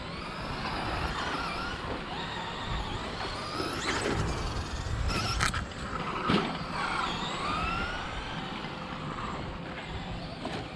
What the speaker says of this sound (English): Uh-oh, car's coming.